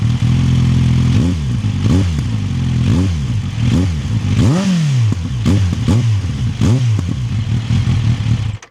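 A 2025 Kawasaki Z900 motorcycle exhaust is revved up close, with a series of sharp throttle blips rising and dropping back to a loud, rumbling idle, roughly eight revs in quick succession, no talk.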